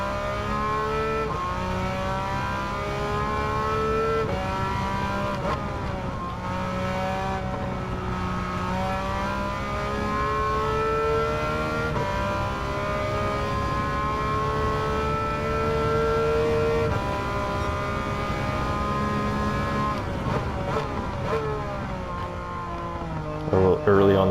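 A Porsche 911 race car in Gran Turismo 7, on soft racing tires, howls through repeated high revs and upshifts, engine pitch climbing and dropping steadily over the lap with talk layered on top.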